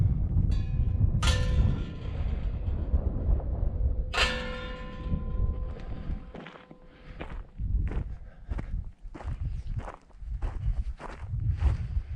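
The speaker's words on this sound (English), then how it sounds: "Some bells." Two resonant bell strikes ring out a few seconds apart at Carhenge, each with a long shimmering decay, followed by clanking and footsteps nearby.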